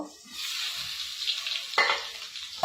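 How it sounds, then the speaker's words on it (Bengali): A single egg sizzles in a frying pan, a steady close crackle of hot oil broken by a couple of sharper clinks near the end. "আমি শুধু ডিম ভাজছি"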